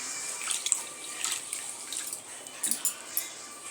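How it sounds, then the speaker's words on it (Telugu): Soaked dosa batter grains being rinsed by hand in water: faint sloshing and dripping with small splashes, fairly close and quiet, with a few sharper trickles near the end and no talk. "ఇంకా ఒక 2 టైమ్స్ కడుక్కున్నాక మినరల్ వాటర్ వేసేసుకొని నానబెట్టేసుకుంటాను"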